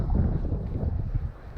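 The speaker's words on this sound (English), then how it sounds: "All of a sudden the wind." A sudden gust of wind buffets the microphone outdoors on a Mammoth hiking trip, a loud, continuous low roar that holds steady for over a second before easing slightly, with no voices.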